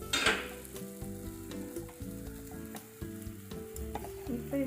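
A ragi and kambu adai fries on a hot pan after being flipped, giving a steady close sizzle with small crackles and faint clinks throughout, no voices.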